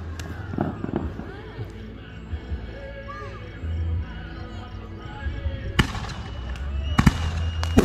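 Fireworks at a live display in Boxholm, Iowa, sponsored by the local fire department. A few sharp bursts crack out early and near the end over a steady outdoor crowd murmur, with faint music underneath.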